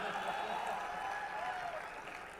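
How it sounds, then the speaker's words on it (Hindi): An audience at a Kumar Vishwas talk bursts into sustained applause, a dense wash of clapping with crowd voices mixed in, steady and moderately distant, tapering slightly at the end. "तुम ताली देर से बजाते हो यार"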